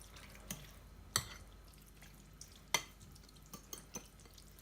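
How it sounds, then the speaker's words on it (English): Fish ceviche is stirred in lime juice, with faint liquid swishes and a few sharp clinks of a utensil against the bowl at irregular moments over quiet background. "I'm gonna give it a mix."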